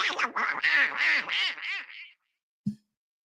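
A duck quacks loudly and close in a rapid burst of about eight quacks, followed by silence and one short final quack.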